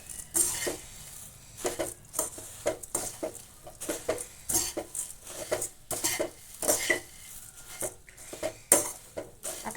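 A spoon scrapes and clinks against a pan as chivda masala is stirred over a low gas flame, with repeated rhythmic metallic taps and rustling close up, no voices.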